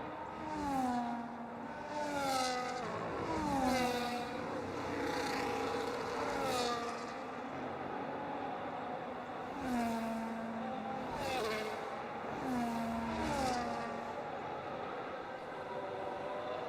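Race car engines in the F1 25 game at the Austrian Grand Prix, revving and shifting in loud rising and falling sweeps as one car overtakes another, steady and close with no voices.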